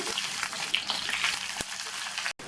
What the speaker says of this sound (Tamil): இந்த வெங்காயம், பூண்டு, இஞ்சி எல்லாம் அதனுடைய கலர் லைட்டாக மாறுற அளவுக்கு வதக்கிக்கணும்